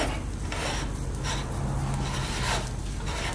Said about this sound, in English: Start the tap.